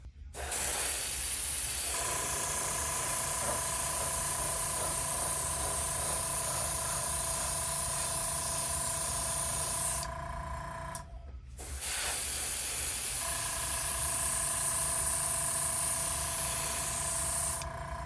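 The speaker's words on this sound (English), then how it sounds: "we're going to go ahead and start spraying our overall base coat over the model" Steady hissing airbrush spray of a light gray base coat onto a 1/537 scale plastic model kit runs in two long bursts separated by a brief pause, close and constant.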